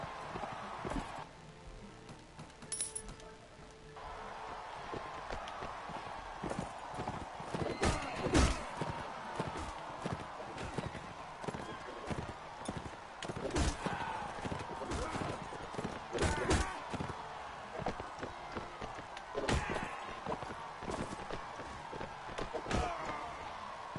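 Horses gallop in the Mount & Blade Warband video game, with rhythmic clopping hoofbeats and scattered sharp combat impacts, while a voice talks over them.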